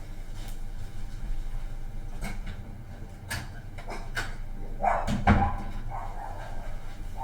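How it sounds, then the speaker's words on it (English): A puppy barks indoors in a few short, sharp yaps at moderate distance, standing out over a low steady background hum with no talking. "The puppy's barking."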